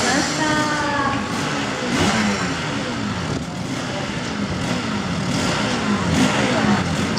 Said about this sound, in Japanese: 2台のマシンエンジンスタートサインが出ました